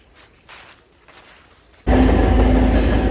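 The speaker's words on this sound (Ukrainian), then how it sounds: "Потяг" A train roars past near a forest, arriving abruptly and loud after quiet footsteps and rustling, then sustaining a broad, steady rumble.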